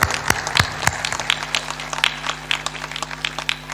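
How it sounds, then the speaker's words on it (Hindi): An audience at a spiritual discourse gathering claps in scattered, uneven bursts, with sharp individual claps standing out over a steady background hum. "ताली बजाते।"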